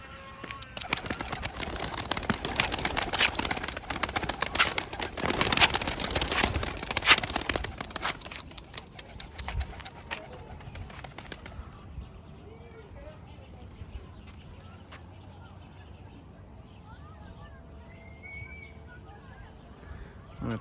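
Young birds fly off toward a target during training, a loud, busy flutter of wings for several seconds that then fades to quieter ambience, with a person talking in the background.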